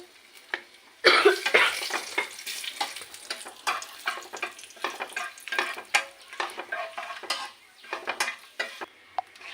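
Whole spices and two bay leaves hit hot oil for a chicken roast, with a sudden sizzle followed by continuous frying crackle and frequent light scrapes and clinks of a spoon stirring in the pan.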